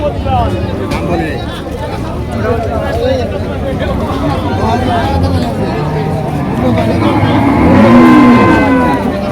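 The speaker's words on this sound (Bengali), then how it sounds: "প্রচুর গরু উঠে এই হাটে" Cattle moo amid the busy hubbub of a crowded livestock market in Tangail, Bangladesh, with many people talking nearby.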